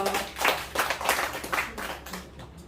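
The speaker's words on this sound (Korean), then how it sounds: "박수 한번 해주세요." A small audience at a Korean poetry-writing lecture claps for a poetry reciter, a few uneven bursts of hand claps that swell and fade and then taper off near the end.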